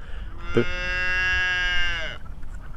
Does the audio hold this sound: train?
no